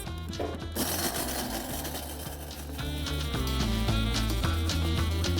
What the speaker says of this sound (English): So I'm going to go ahead and grind these spices